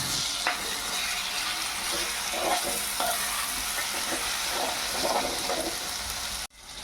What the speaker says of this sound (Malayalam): കാശ്മീരി മുളക് പൊടി, കുറച്ച് മഞ്ഞൾപ്പൊടിയും കൂടി ചേർത്ത് നന്നായി ഇളക്കി കൊടുക്കുക.